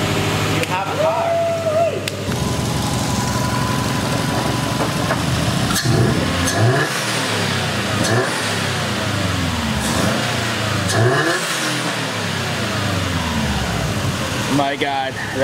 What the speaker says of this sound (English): So as you guys saw, the car is currently running right now.